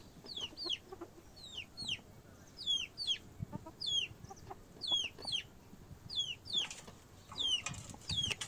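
A newly bought pair of desi village birds, a hen and a rooster, cluck over and over in quick, repeated chirpy calls at a fairly steady rhythm, close by, over faint farmyard background and no talk.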